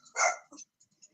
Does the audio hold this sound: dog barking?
yes